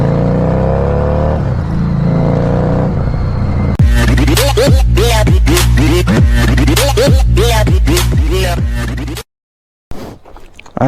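A Kawasaki Z900 motorcycle idles, then fires off a loud, close run of sharp throttle blips, roughly a dozen rapid revs, before the sound cuts out abruptly.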